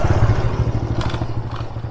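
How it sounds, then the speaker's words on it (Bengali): A motorcycle runs along a narrow mountain trail on Parasnath hill in Jharkhand. Its engine throbs in a steady low pulse with some clattering and scraping, loud and close throughout. "কন্টিনিউ বাইক যাচ্ছে"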